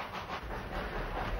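A 2-8-2 Mikado coal-fired steam locomotive hauls a passenger train up a steep 4% mountain grade, a dense, steady rumbling chuff and hiss at moderate distance with no voices.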